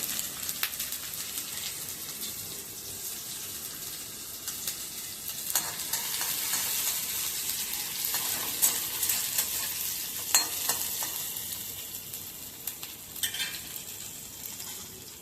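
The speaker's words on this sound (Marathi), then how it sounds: "तेल गरम झाल्यावर थोडं लसूण बारीक कापून टाकायचं, थोडंसं आलं आणि थोडीशी मिरची." Finely chopped garlic, ginger and chili frying in hot oil give a steady close sizzle with occasional stirring scrapes and spits, continuous for the whole stretch with no talking.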